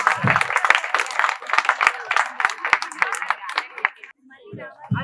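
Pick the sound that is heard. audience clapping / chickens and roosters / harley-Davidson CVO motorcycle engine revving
audience clapping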